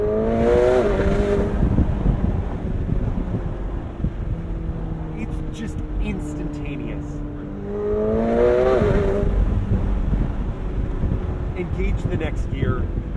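A McLaren 720S Spider accelerates hard from inside the cabin, its engine note climbing through rising revs with quick gear changes that drop the pitch before it climbs again, loud and continuous, with someone talking over it.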